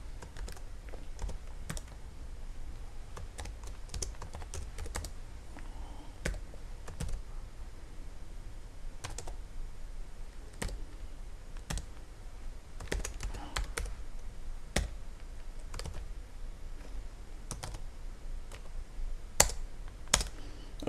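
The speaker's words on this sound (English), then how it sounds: "let's go ahead and type the rest of the names" Steady typing on a computer keyboard, with sharp individual key clicks in an irregular rhythm across the whole stretch, close and moderately loud, with no voices.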